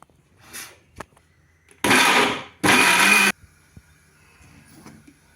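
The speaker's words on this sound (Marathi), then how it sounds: "मिक्सरमध्ये छान वाटून घेऊया" A kitchen mixer grinder churns fresh grated coconut with water in two short, loud, close bursts separated by a brief pause, with quiet background noise around them.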